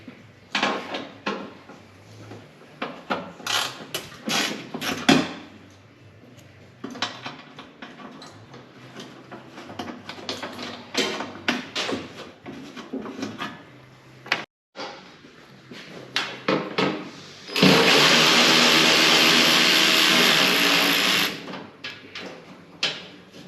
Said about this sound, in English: Take out these T30 screws, pull this up so we can get the wires behind it.